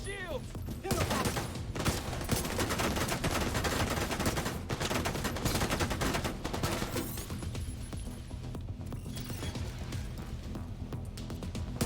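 Sustained bursts of gunfire in The Division 2 video game, with dense rapid automatic shots rattling almost without pause, loud and close, thinning slightly near the end.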